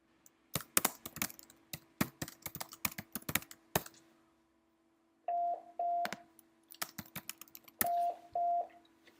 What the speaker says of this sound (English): Here we type in the question.